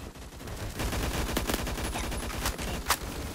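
Rapid gunfire bursts from the Roblox shooter game Phantom Forces, several sharp cracks spread across a few seconds over steady in-game background noise, with no talking.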